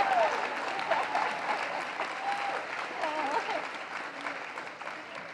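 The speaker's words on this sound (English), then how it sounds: "you can give me an applause for that" Guests at a Celebrating Women breakfast give a steady round of applause, moderately loud crowd clapping with a few voices calling out over it.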